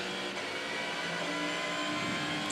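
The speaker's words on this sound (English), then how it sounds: "You can hear it really threshold braking." Sports-car engine at the Sebring race on the last lap, threshold braking with a steady harmonic whine that drops through the gears, heard fairly distant and alone.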